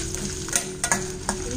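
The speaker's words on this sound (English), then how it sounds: "Chilies are fried nicely. Now we will add handful of garlic." Green and red chilies frying in hot oil for a cabbage chutney, giving a steady close sizzle with a few sharper crackles and stirring scrapes over about a second and a half.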